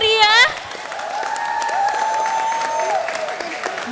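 An audience at a regional arts showcase in Banjarnegara claps after a dance performance, a brief burst of applause that fades quickly under a presenter's amplified voice.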